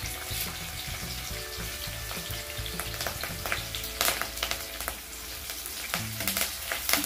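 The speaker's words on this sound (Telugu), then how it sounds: "గుప్పెడు వేయండి కరివేపాకు." Curry leaves frying in hot oil for a spicy eggplant curry, a steady crackling sizzle with bursts of spitting pops that continues throughout at close range.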